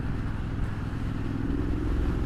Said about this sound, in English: I'm twisting the throttle quite a lot to actually get going